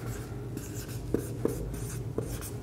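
A lecturer writes on a board during a lecture, producing soft scratchy strokes with a few sharper taps as letters are formed, over a steady room hum without speech.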